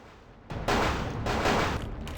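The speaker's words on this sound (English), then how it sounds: "Shotgun shooting." A shotgun goes off in Vampire The Masquerade Bloodlines with loud, close blasts. A burst comes at about half a second, another follows, and a further blast lands near the one-and-a-half-second mark, each trailing into a noisy decay.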